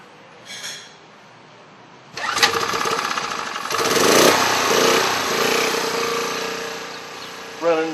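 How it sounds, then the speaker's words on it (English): Portable generator pulled to start with a brief sputter, then catching and running with a loud steady engine drone, close by. "Running generator"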